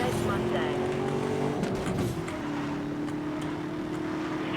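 A car in Need for Speed: Most Wanted (2012) roars at high revs with a brief tire scrub midway, then settles into a steady engine drone while someone talks over it.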